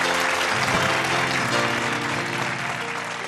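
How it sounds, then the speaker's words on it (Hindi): An audience at an Eid stage show claps in a sustained, loud burst, the applause steady and dense throughout with a faint music-like tonal bed underneath. "आप लोगों की तालियां आनी चाहिए"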